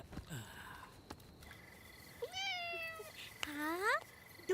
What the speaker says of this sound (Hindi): हाँ, दूसरी बिल्ली।